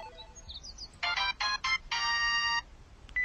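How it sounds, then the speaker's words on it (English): A telephone ringtone from an old VHS commercial plays a bright electronic trilling pattern in several short bursts, then one longer ring, fairly clear over a faint hiss. "That's cool ringtone"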